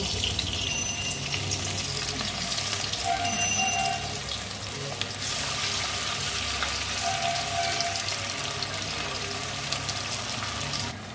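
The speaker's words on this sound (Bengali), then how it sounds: "সর্ষের তেল দিলে কড়াইয়ে ধোকাগুলো ভেজে নেবো" Lentil cakes (dhoka) fry in mustard oil in a kadai, giving a loud, continuous sizzle and crackle that lasts the whole stretch with no one speaking.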